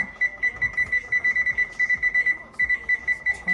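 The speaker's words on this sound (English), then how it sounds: "Timer." A kitchen timer set while meatloaf goes into the oven beeps in rapid, regular bursts of short high tones, repeating steadily throughout with faint household noise beneath.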